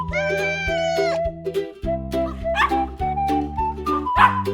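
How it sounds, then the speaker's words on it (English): A dog barks in a few short, separate yaps over a steady musical backing, with a brief high whine near the start. The barks are close and fairly loud, and no one talks. "It's a dog."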